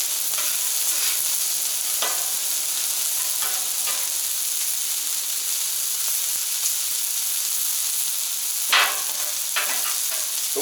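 Onions sizzle on a Camp Chef FTG600 flat top grill outdoors in extreme cold around -23F, a dense, loud, steady hiss with a few brief spatula scrapes, close up.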